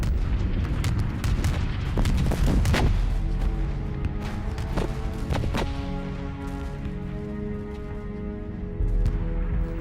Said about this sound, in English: Brigadier General Rees has a perfect view of the final bombardment